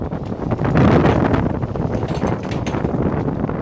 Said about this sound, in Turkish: rüzgar da maşallah uçurup götürüyor bizi